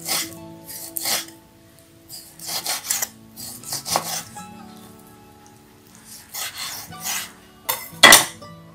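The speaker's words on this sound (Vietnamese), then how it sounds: "Rồi sau khi mình xắt mỡ xong rồi ha" A knife chops pork fat into small dice on a cutting board for homemade Chinese sausage, producing irregular bursts of scraping, rasping cuts with brief pauses, close and fairly loud.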